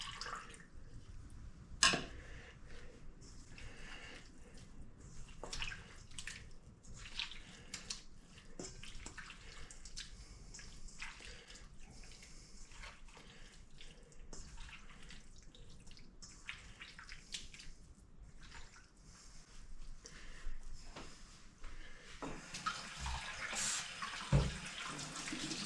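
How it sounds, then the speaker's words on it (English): Half a cup of cold water poured over beef jerky seasoning to make a marinade, a steady splashing trickle running for most of the stretch with a brief knock near the start, no voices. "We're going to add 1/2 cup of cold water."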